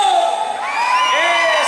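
Crowd at a live banda concert in Santa Fe de la Laguna shouting and whooping together, a loud, sustained wash of high voices and cheers rising in the second half.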